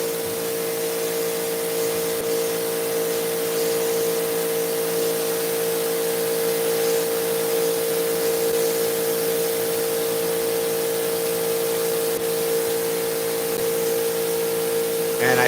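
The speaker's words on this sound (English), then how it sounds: "So I'm actually opting to power wash these fringes first" Power washer spraying the fringes of a rug during a cleaning job, a constant loud hiss of water jet over a steady pump drone, unbroken for the whole stretch.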